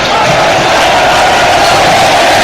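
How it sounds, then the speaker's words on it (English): A loud stadium crowd of Crystal Palace fans roars and cheers continuously at the full-time whistle of an Arsenal versus Crystal Palace football match, a dense wall of voices with no breaks. "the full-time whistle has gone, and the Crystal Palace fans cheer"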